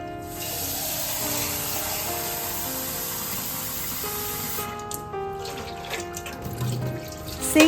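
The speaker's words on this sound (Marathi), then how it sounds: "मस्त पाण्याने सगळं सिंक स्वच्छ धुवून घ्यायचं आहे" Tap water runs steadily into a kitchen sink, a close, continuous hiss and splash that swells slightly near the end.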